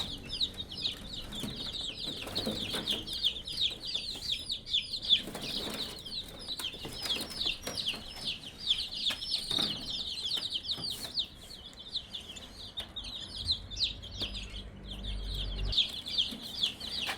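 Young Vorwerk chicks, with some Australorp chicks mixed in, peep continuously in a warming brooder, a dense, steady chorus of high chirps with occasional soft clucks, close and fairly loud throughout.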